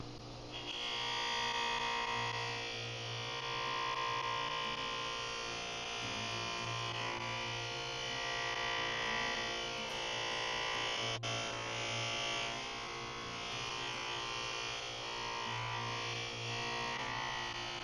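Buffing wheel loaded with white compound polishing old-school aluminum Thrush side pipes, a steady motor whine and rubbing hum sustained throughout with slight rises and dips in pitch.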